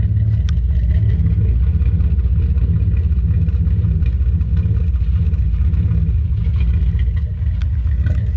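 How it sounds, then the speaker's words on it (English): Exhaust of a running Nissan R31 Skyline with an 818B cam, a steady, fairly loud low rumble at idle, heard close to the tailpipe with no one talking. "Give you a little exhaust clip of it running."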